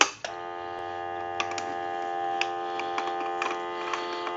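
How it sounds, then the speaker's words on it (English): A repaired Hollywood desk telephone hums with a steady dial tone. It begins with a brief click, then the tone holds alone and faint, with light ticks scattered over it. "we'll go ahead and hang up and give you some dial tone."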